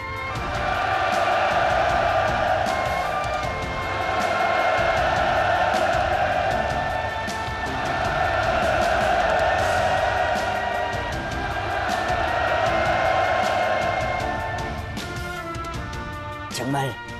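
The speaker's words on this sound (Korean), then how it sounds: "열렬한 박수로 감사를 표하자는 것을" A large assembled crowd at a party congress ceremony presenting 600mm-calibre multiple rocket launchers roars with sustained cheering and applause, swelling in loud waves before easing near the end.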